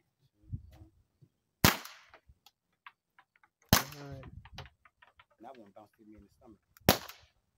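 Umarex air pistol firing rubber shots into a flat screen TV: three sharp, loud cracks spaced a couple of seconds apart, each with a short impact rattle, while someone talks quietly in between.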